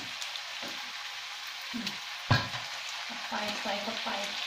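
Minced pork stir-fried with roasted chili and fish sauce in a pan: a steady, close crackling sizzle with irregular scraping stirs and one sharper clack partway through. No talking.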